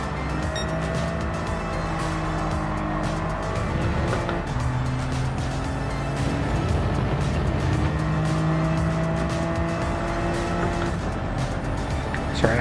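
Toyota GR Cup race car engine in a racing video game, a loud continuous engine drone with shifting pitch and tire squeal throughout, steady and close.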